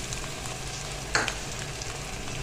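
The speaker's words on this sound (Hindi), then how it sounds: "इसको हमने इतना भूनना है कि प्याज हमारा सॉफ्ट हो जाए" Chopped onions and half a small raw mango fry in a pan, a steady close sizzle with one brief scraping stir partway through.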